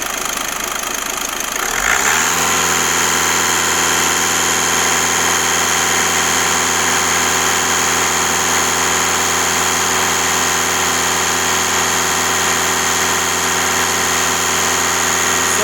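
A VW Golf 1.6 TDI diesel engine is revved up to full throttle and held there, a steady loud close drone with no talk over it.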